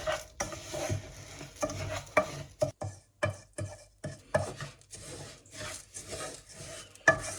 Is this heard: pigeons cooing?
no